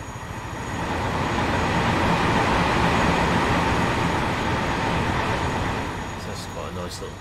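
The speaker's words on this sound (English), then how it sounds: "that working train line through the middle of the farm" A train passes along a line running through a farm in a farming video game, a continuous rumbling rush that swells to a peak midway and then fades slightly, with some talk-like tonal traces late on.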